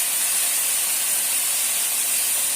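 Taro greens dropped into hot oil with black cumin, bay leaf and dried chili, giving a steady, loud frying hiss and sizzle that holds evenly throughout with no talk.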